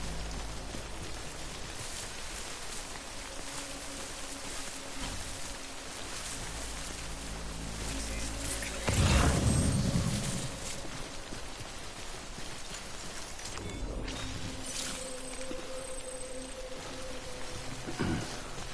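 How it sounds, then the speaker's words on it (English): Steady rain falls in Death Stranding, a dense continuous hiss of drops on surfaces with a louder gust around the middle and faint low tones beneath, with no talking. "Good thing it was raining."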